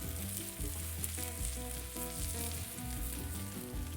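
Duck pieces sizzle in fat on an Onyx 4S grill, a steady, loud frying hiss running throughout with no voices.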